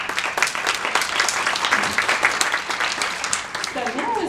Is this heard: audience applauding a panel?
yes